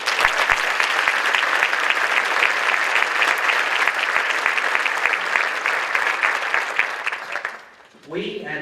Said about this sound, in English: Please, everyone, give them a big round of applause.